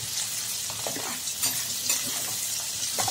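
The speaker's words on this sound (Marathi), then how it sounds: "आधी कांदे टाकून घ्यायचे, कांदे खूप लालसर थोडेसे होऊ द्यायचे बरं।" Onions fry in a pan with potato, giving a loud, steady hiss of sizzling oil while a spatula stirs through them with a few soft scrapes.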